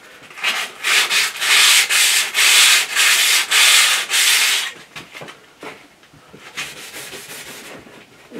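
A metal file trims the edges of a BM16 sliding tab in a run of about eight quick, rhythmic rasping strokes, loud and close, then lighter, sparser scrapes.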